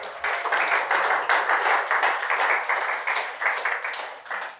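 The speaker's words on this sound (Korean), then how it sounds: "박수!" A crowd claps in a pulsing, rhythmic wave of applause, loud and close, with the beats swelling and easing repeatedly.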